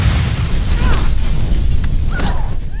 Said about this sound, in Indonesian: menembak ke arah gas, membuat rumah itu meledak